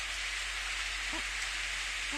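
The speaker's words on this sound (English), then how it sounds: "it's raining." Rain falling in the video game Steins;Gate, a steady broadband hiss of downpour that stays even throughout, with a couple of brief faint tonal blips over it.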